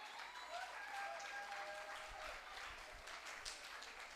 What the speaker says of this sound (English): that is clapping